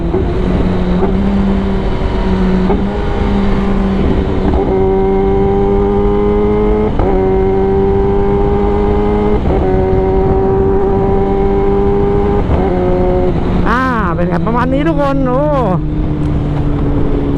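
Riding a Kawasaki ZX-10R, the engine drones loud and close, climbing through several gears with rising pitch sweeps and shift breaks, then a burst of rapid revving near the end; a rider talks over it.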